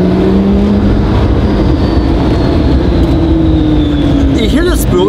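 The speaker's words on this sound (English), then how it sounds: "Listen to these turbos spool." A McLaren P1 hypercar drives past, loud and close, its engine roar carrying a rising turbo spool and a thin high electric-motor whine, with a voice speaking briefly near the end.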